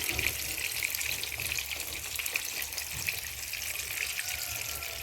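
Water drains from half-boiled rice through a strainer, an even rushing pour that stays close and steady for about five seconds.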